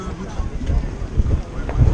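Strong wind of over 30 knots buffets the microphone on a sailing boat in low, gusty rumbles, rising and falling in bursts throughout.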